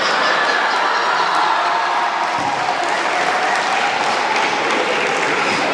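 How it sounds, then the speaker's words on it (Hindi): A crowd at a comedy show applauds steadily in dense, continuous clapping with faint chuckles mixed in, loud and sustained without a break. "तालियां बजाना"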